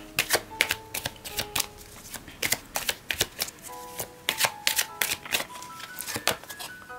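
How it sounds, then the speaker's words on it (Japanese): Oracle cards are shuffled and drawn in a quick run of crisp riffling flicks and slaps, close and sharp, with faint tonal chimes in the background and no talking. "オラクルカードも1枚引きたいと思います。"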